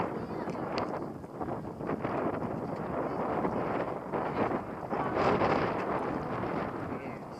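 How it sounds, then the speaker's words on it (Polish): Steady wind buffets the microphone with a continuous rumbling roar on Święty Krzyż in Poland's Świętokrzyskie Mountains, gusting a little louder at times. "Troszkę wieje wiatr."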